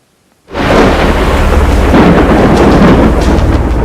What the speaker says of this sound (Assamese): বিহুৰ বতৰত ৰুষ্ট প্ৰকৃতি, আহিছে ধুমুহা, আহিছে শিল বৰষুণ।